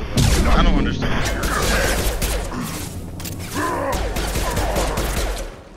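Gunfire in Mass Effect 2 during a firefight with a Krogan: loud, continuous bursts of rapid shots with mechanical clanks and booms, mixed with voices.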